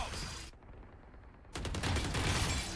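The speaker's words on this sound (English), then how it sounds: "Gunfire." Gunfire in a Valorant esports match sounds in bursts: a rapid fusillade of shots, a brief lull, then a denser sustained spray of loud, close rounds.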